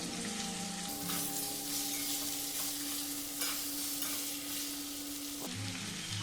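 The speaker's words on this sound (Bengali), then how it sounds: "গ্যাসটা একদম কমিয়ে রেখে আমি মশলাটা একটু ভেজে নিচ্ছি" Spices with drumsticks and green chillies sizzle and crackle in a pan over low gas while a spoon stirs and scrapes through them, a steady frying hiss with no talking.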